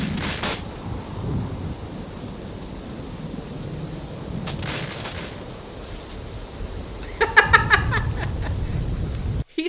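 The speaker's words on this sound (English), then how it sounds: "It rained and lightning struck it." Steady heavy rain hisses through a thunderstorm in a music video, with low thunder rumbles and a louder crackling burst near the end before it cuts off.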